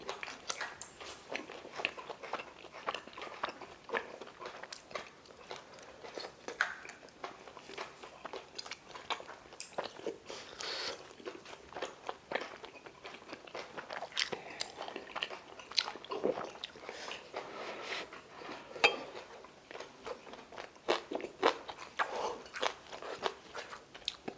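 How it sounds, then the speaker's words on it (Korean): Steady close-up chewing of rice cake during a mukbang of grilled beef intestines and clam soft tofu stew, with continuous soft, wet mastication and small crunchy bites throughout. "떡좀 먹어볼까?"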